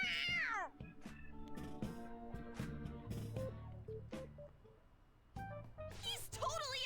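A cat in the Persona 5 Royal video game meows twice, once at the start and once at the end, with game music and sound effects in between.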